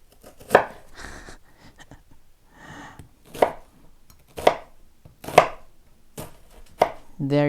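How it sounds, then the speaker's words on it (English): A knife chops salmon into small pieces on a cutting board, sharp, isolated thuds at uneven intervals, about eight distinct strikes, close and clear with quiet gaps between. "And then we chop it into small pieces."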